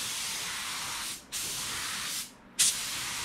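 Hissing bursts from a spray gun laying down a sealer coat before paint, three steady passes separated by short pauses, close and loud with no talking.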